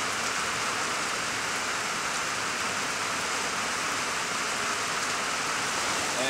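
Steady rain pouring down outdoors during a storm at a festival gathering, a dense constant hiss of drops on surfaces with no change in intensity and no talking.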